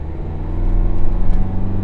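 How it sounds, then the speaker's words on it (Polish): Loud, rough engine rumble of an old Isuzu D-Max diesel pickup idling and pulling uphill, a deep throbbing drone that swells slightly, heard close up. "Posłuchajcie tego diesla."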